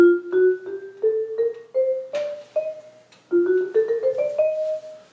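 Mellow struck vibraphone bar tones played one at a time in two short ascending runs of dominant chord notes, each note ringing briefly with a soft metallic decay.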